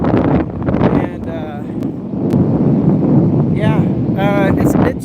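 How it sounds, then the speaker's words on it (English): Strong wind on a rocky stretch of the Oregon coast buffets the microphone as a loud, steady roar with gusts, while a person talks over it. "It's windy."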